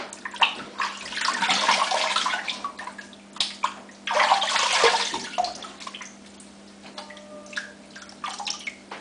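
Water is added to shaving soap during lathering, with splashing and sloshing in two main bursts, then softer drips and brushy wet sounds, fairly close and with no talk.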